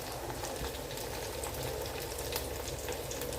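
Garlic frying in a pan for a village-style drumstick and garlic thokku, a steady, dense sizzle and crackle that holds at an even level throughout with no voices.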